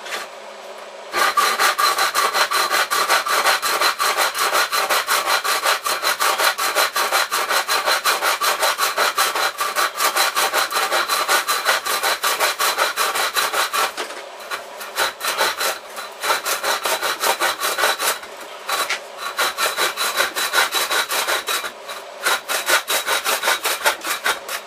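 Continuous rhythmic rasp of a hand saw cutting through wood for a pistol crossbow, fast even strokes running loud and close, with a few brief pauses toward the end.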